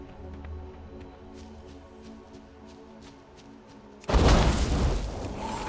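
A fire spell cast in World of Warcraft bursts in suddenly after a quiet stretch, a loud roaring whoosh that holds strong for the last second and a half.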